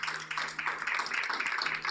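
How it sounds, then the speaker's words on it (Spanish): A church congregation applauds, steady scattered clapping lasting about two seconds, moderately loud in a reverberant hall. "¿Alguien le podrá dar un aplauso entonces?"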